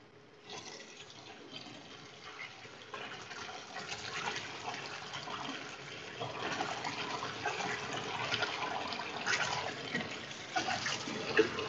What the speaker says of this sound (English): let's put the noodle into that strainer and I'm going to wash the noodles